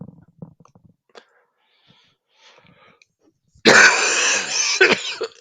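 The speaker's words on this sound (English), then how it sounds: "Coughing, so it is very common in energy work." After a stretch of near silence with faint scattered noises, a person bursts into a loud, close, harsh coughing fit that runs on for nearly two seconds, rough and breathy, with a brief break before a final hack.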